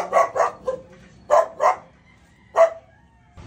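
A dog barks in short pairs, loud and close, with quiet gaps between the bursts.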